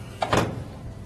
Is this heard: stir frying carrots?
no